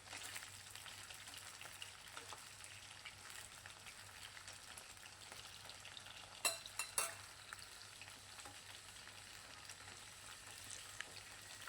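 Chicken pieces fry in a pan with a steady, dense sizzle that carries throughout, with a few brief louder scraping or spattering bursts near the middle and no talking.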